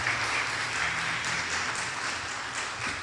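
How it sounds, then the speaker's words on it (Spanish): Church congregation applauding during a Spanish-language service, a dense, steady wash of clapping from many hands filling the room, loud and sustained without talk on top. "Vamos a recibirlos con unas palmas"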